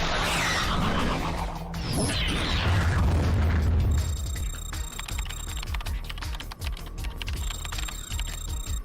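A torpedo explosion from the Code Lyoko animated series, a loud burst early on that rolls into a dense rumble, then settles into mechanical clicking and electronic tones that run to the end.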